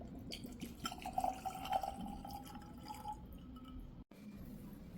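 Whisky is poured over ice cubes in a glass, a short liquid pour with drips and light clinks, fairly quiet and close.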